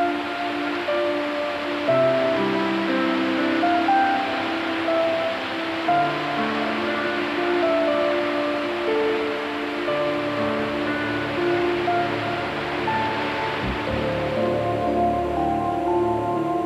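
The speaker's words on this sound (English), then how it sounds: "rushing rapids and beautifully tiered waterfalls" Rushing river rapids and tiered waterfalls of the Gordon and Franklin Rivers in Tasmanian rainforest give a continuous broad wash of water, overlaid by sustained musical tones.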